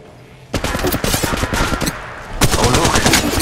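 Gunfire in the mobile shooter Apex Legends Mobile: loud, rapid automatic bursts close up, a first burst running about two seconds, a brief pause, then another fast burst.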